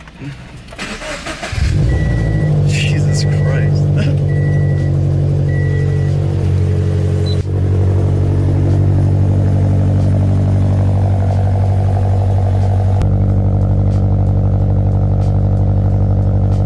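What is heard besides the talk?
sports car engine cold start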